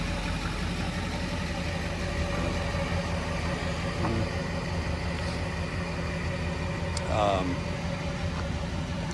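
A 2006 Chevrolet Silverado with an LBZ Duramax diesel engine and tuner runs steadily at idle, a continuous low rumble with a brief swell near the end, heard close by with faint voices in the background.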